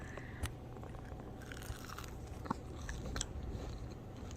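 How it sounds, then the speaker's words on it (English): Someone bites into crunchy homemade yuca fries, making a few faint, brief crisp crunches spread over quiet chewing, close to the mic. "I'm gonna take a bite so maybe you can hear the crunch"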